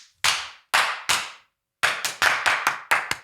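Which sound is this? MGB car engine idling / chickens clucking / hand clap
hand clap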